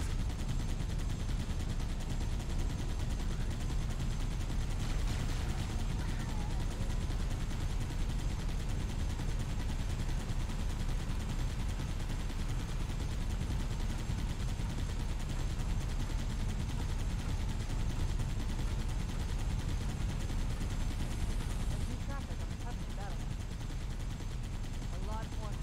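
Rapid gunfire from the Halo video game rattles continuously under a dense, noisy game mix, with bursts blending into a steady, fairly quiet background of shots.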